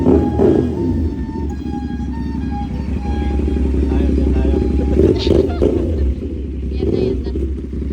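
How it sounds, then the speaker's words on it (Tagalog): CF Moto 450NK motorcycle fitted with an Austin Racing slip-on exhaust, idling with a deep, steady rumble and a few light blips of throttle, close by while someone talks over it. "At yan na, nasalpak na sa NK450 natin ang Austin Racing na tambucho. Grabe ang tunog niya."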